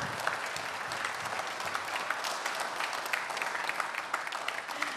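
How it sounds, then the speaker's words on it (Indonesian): A live studio audience on a Banten election special report applauds to welcome two gubernatorial candidates, a sustained, even roar of many hands clapping for several seconds with no voices on top. "Kita sambut dengan tepuk tangan yang meriah Pak Wahidin Halim dan Andika Hasrumi."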